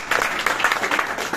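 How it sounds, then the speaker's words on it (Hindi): A crowd applauds at a class or coaching session, a brief, dense wash of clapping that holds at a steady, moderately loud level for a moment. "एक बार और तालियां बजा दो"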